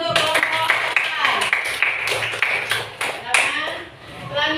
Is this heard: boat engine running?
no